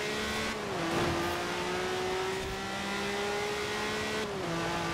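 Honda NSX racing in Forza Horizon 4, its engine holding a loud sustained tone that dips briefly at two gear shifts, with a faint tire squeal, alone without talk.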